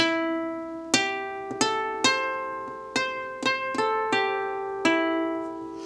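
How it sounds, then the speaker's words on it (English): Low bass harp strings plucked with a fingernail give a bright, twangy, almost metallic attack, struck one after another at an unhurried, uneven pace and left ringing. "You can also play with your fingernail at the bass to make a cool sound like this."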